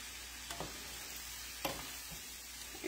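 Cabbage and other vegetables cook in butter in a pan with a quiet, continuous sizzle. A few soft utensil clacks and stirring knocks sound through it, and nobody speaks.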